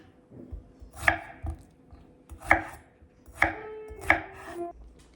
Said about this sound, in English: So I'm just gonna slice them down the middle and then kind of slice them again down the other side.